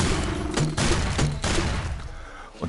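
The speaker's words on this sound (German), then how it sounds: "der hier verschießt Cola-Dosen, die explodieren" Enemy in the PlayStation VR game Dick Wilde fires exploding cola cans, producing a rapid burst of sharp, loud pops and booms in quick succession that fade out near the end.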